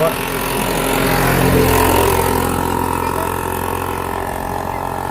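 A vehicle engine runs close and loud at a steady idle, a continuous rumbling drone with no pauses, with voices faintly present in the background.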